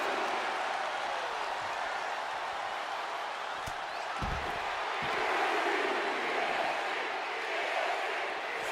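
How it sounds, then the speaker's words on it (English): A large arena crowd cheers in Las Vegas during a WWE 2K25 SmackDown women's wrestling match, a steady dense roar that swells slightly with a few thuds and claps mixed in, no talk over it. "And you can hear the Las Vegas crowd on their feet for Bianca Belair"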